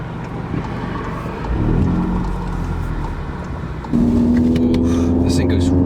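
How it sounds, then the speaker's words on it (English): Engine of a 2017 VW Golf R with a Borla S-Type cat-back exhaust rumbling and revving up. The pitch climbs, settles, then jumps into a louder, steadier drone as the car pulls into gear. "Now you can actually hear the motor through the exhaust"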